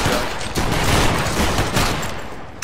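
Musket volley from a line of infantry in the Battle Grounds III video game: a loud, dense rolling crackle of many shots fired together, swelling and then tapering off over a couple of seconds, with no talk.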